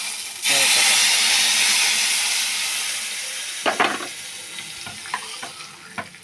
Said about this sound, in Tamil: இப்போ கடுகு பொரிஞ்சிருச்சு பாருங்கள் ஃப்ரெண்ட்ஸ், கடுகு பொரிஞ்சிருச்சு